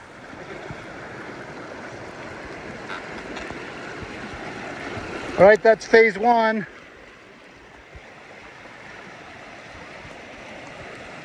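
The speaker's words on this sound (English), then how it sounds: "every time I've gotten to a stream of any significance, there's been a bridge. But here we have our second water hazard." A hiker fords a mountain stream, the water rushing steadily throughout with a brief burst of splashing and sloshing near the middle; someone speaks briefly.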